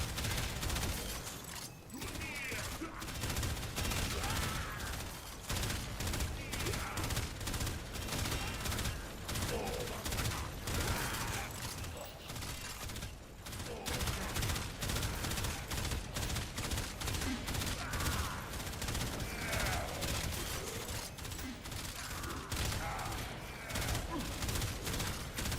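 Rapid gunfire from the Warframe video game plays continuously and loudly, dense repeated shots blended with game effects and music, with a player's voice talking over it at times.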